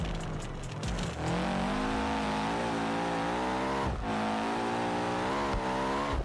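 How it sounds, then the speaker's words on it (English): A car engine in the BeamNG video game revs hard with rising and falling harmonic whine, dipping sharply twice between throttle bursts, loud and close with no talk. "Why is our engine sound so terrible?"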